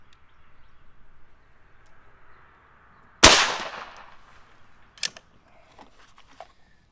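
A single sharp, loud report from a Seneca Dragon Claw .50 caliber dual tank airgun cracks out nearby and trails off quickly, followed by a faint metallic clack.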